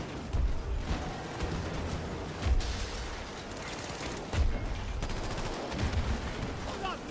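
Repeated heavy blasts of grenades thunder through a Battlefield match, booming thuds recurring every second or two over constant gunfire and battle noise, loud and close.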